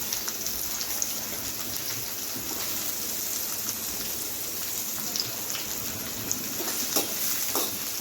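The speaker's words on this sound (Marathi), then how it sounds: "त्यानंतर आपल्याला टाकायचं आहे त्यामध्ये हा असा उभा चिरलेला आपण घेतलेला आहे कांदा" Sliced onion frying in a pan for dal khichdi gives a steady, dense sizzle with occasional crackles and pops, close and even throughout, with no talking.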